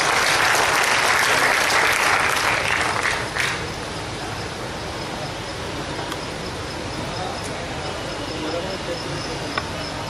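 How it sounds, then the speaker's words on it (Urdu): Audience applause welcoming a poet onto the stage at a Delhi mushaira, a burst of clapping for about three seconds that quickly fades, leaving a steady insect-like hum of room and background noise. "ساتھیوں، آپ تالیوں کے ساتھ ان کا استقبال کرتے ہیں"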